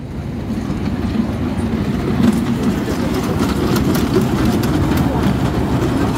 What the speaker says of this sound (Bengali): ওয়াও, কত ছোট একটা ট্রেন গাইস, দেখো এত ছোট বেবি ট্রেন আমি আগে কোনো সময় দেখিনি